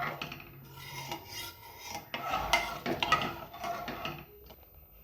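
Washed rice in water and ghee is stirred in a pressure cooker pot, giving a steady close scraping and rasping with a few sharper metallic knocks partway through, no voices.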